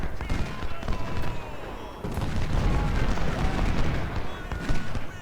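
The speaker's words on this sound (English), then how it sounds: "our 20 pounders are hitting enemy supplies" Cannons firing in the Civil War strategy game Ultimate General: Civil War, a dense run of repeated booms and crackling gunfire layered with battle noise, while a voice talks over it.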